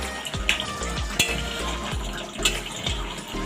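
Three green chillies added to a simmering Bengali egg curry (dim kalia) in a pan: a quiet, bubbling sizzle with intermittent light scrapes and clinks of stirring repeating every half second or so, no voices.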